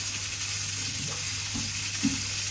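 Food sautéing in a pan for Jamaican cooking, a continuous close sizzle and crackle with a few soft stirring scrapes, and no one speaking.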